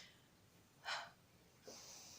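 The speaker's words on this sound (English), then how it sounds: "Excuse my sniffing, by the way, I'm still getting over the flu." Two quick, faint nasal sniffs from someone recovering from the flu, a short sharp intake followed by a longer breathy one, close to the mic in a quiet room.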